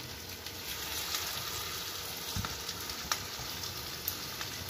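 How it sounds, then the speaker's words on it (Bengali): Boneless chicken pieces for chicken 65 sizzle steadily in hot oil, a continuous close crackling hiss with faint scattered pops and no talking. "তেলটা গরম হয়ে গেছে, এবার হবে চিকেনটা ছাড়ার পালা।"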